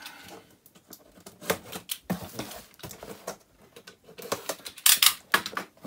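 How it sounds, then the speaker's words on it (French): A utility knife slicing tape on the box of a Star Wars toy helmet: a run of short, sharp clicks, scrapes and rustles of cardboard and tape, close and fairly quiet, with a few louder crackles toward the end. "Donc on prend le cutter, hop, des petits scotch."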